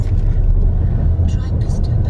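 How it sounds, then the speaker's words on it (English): A car driving past on a road close by, a steady low rumble, with people chatting over it. "Ooh, I like that car."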